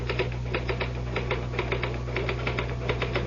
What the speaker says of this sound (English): Just hit the typewriter, Harry.